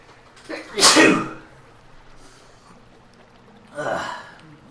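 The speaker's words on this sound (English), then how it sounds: "Oh, I got a sneeze incoming." A loud, close sneeze bursts out, followed a few seconds later by a second, softer sneeze-like burst.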